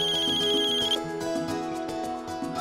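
A mobile phone ringtone plays alone in a bright, repeating melodic pattern, a sustained tone giving way to rhythmic pulsed notes, loud and close with no talk.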